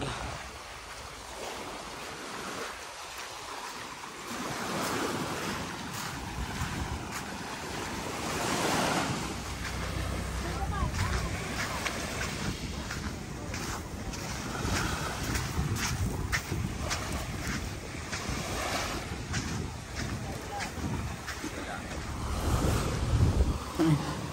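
Sea waves wash continuously onto the shore of Boracay Island, a steady broad surf roar with swells and heavy wind buffeting the microphone.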